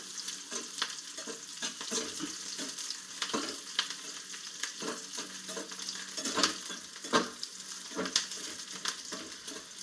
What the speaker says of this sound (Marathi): जरा काळा होईपर्यंत थोडासा परतून घ्यायचा